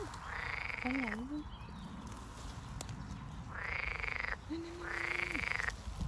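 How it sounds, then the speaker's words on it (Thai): Loud, buzzing mating calls of frogs in a natural canal, long drawn-out bursts, three main calls separated by short pauses, with a steady outdoor hum underneath. "ร้องกันไฟคว้าไฟคว้า เห็นไหมเห็นไหม กบเขาจับคู่กันนะคะ"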